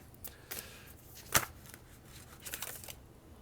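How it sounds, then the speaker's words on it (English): Oracle cards being shuffled by hand, a few soft papery riffles and slaps with one sharper snap midway, quiet and close with no talking. "I'm shuffling, so I guess one more."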